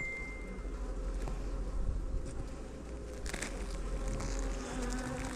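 Honey bees buzz steadily and densely inside an open beehive during an inspection with a new queen, a close, continuous hum that holds without pause throughout.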